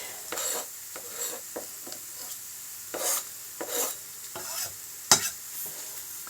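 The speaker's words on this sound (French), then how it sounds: "Et donc ça part dans la casserole avec l'oignon" Chopped celery and onion in a saucepan, heard as soft sizzling with repeated scraping stirs from a utensil, close and fairly quiet with no talking.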